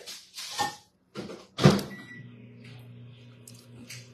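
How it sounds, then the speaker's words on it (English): A few clunks and a beep, then a microwave oven's steady low electric hum settles in and runs on, close by, with no one talking. "Second time y'all done heard the microwave."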